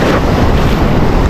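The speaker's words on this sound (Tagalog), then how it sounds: "Oh, lalaki ng alon." Big sea waves wash and surge around a small fishing boat out trolling for trevally, with strong wind buffeting the microphone in a steady, loud roar that never lets up.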